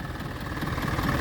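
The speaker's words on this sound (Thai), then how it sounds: "เดี๋ยวรถไถต้องปีนทางขึ้นไปนี้ครับ" A steady tractor engine rumbles at a constant low pitch while climbing a slope, close by and moderately loud, with no voices.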